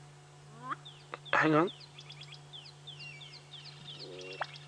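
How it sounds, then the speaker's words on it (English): A black-bellied bustard gives its short display call outdoors at sunset on a safari drive, among scattered chirps of other birds, with a brief voice and a steady low hum from the vehicle. "There we go, the little display of the black-bellied bustard"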